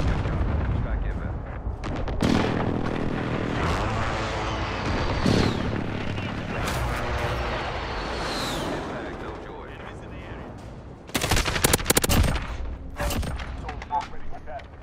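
Heavy, sustained gunfire and booming impacts from VTOL aircraft guns in Call of Duty: Modern Warfare, rolling almost without pause and swelling into louder bursts near the end, with voices faintly underneath.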